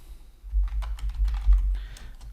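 Quick bursts of typing on a computer keyboard as a folder name is entered, a short run of close, crisp key taps with an uneven rhythm over a low background hum.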